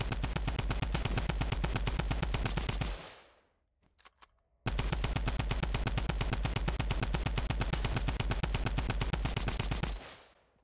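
A drum gun in Fortnite fires long sustained bursts of rapid, loud automatic gunfire. Two bursts of about three and six seconds are split by a short pause with faint clicks.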